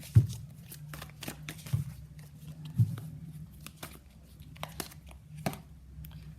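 Tarot cards are shuffled and drawn in soft, quiet bursts of riffling and flicking paper, with brief pauses between the flurries, close up and otherwise near silent.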